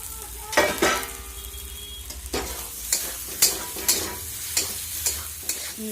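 Steamed flowers are dropped into a hot pan with an egg and spice mix and fried with a steady sizzle, while a spatula scrapes and stirs in regular strokes close by.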